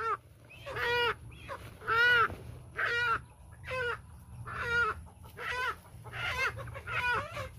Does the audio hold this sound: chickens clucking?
yes